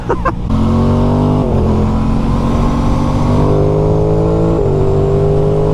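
Engine of an Aprilia Tuono motorcycle, fitted with a 1000 exhaust, revs and pulls up through the gears, a loud, close, rising growl with a brief drop at each shift change.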